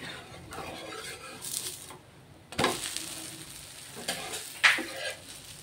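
A green jowar (sorghum) dosa sizzles steadily on a hot pan, with occasional scrapes and clinks of a spatula against the pan.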